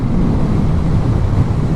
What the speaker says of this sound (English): Really, the wind noise doesn't bother me like any other naked bike, upright bike.